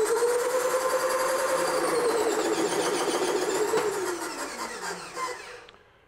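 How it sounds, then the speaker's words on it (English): A circuit breaker's spring-charging motor runs during breaker and vacuum interrupter testing, giving a steady close mechanical whir with a gliding tone that winds down near the end. "We're gonna turn our charging motor on."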